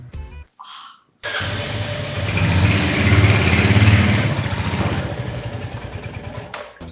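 A motorcycle engine starts up after a short gap and runs steadily, rising to a louder, rough revving drone in the middle before easing slightly, close and loud throughout, with no talk.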